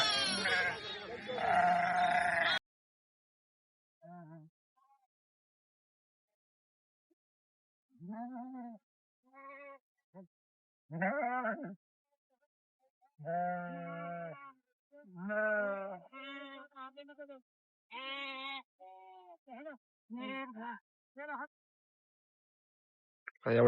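A flock of sheep on the move from Bhandgaon bleats again and again, with calls coming singly and in quick runs against near silence, after a short burst of rough noise at the start.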